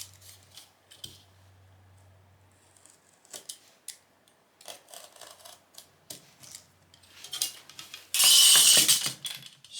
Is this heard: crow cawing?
no